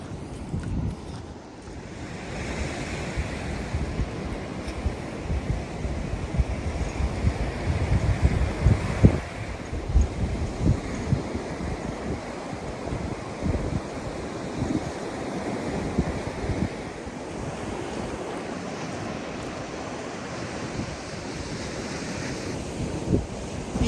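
Ocean surf rolls steadily onto a beach while gusty wind buffets the microphone, producing a constant loud rumbling wash with intermittent blasts of wind.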